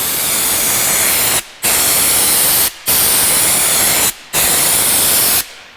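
Spray gun applying LizardSkin sound insulation coating in four long, loud hissing bursts, each cut by a short pause, sprayed in left-to-right passes.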